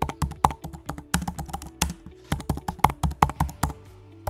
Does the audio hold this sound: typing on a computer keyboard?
yes